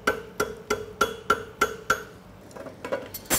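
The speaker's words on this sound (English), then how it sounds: "I'm using the back corner of the hammer and I'm going right up the middle of the material" A farrier's hammer strikes a steel St. Croix Advantage horseshoe, drawing out a toe clip with the back corner of the hammer: a steady series of about eight sharp ringing metallic blows, close and loud, with no talk.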